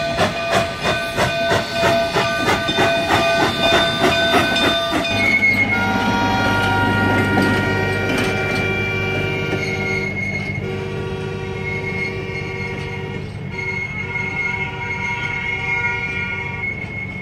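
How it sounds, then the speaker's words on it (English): A steam train rumbles past near Chama, New Mexico, with loud chugging and hissing, a sustained horn-like tone ringing out, then settling into a steady rolling drone. "if you time it just right, you can meet the train at the top."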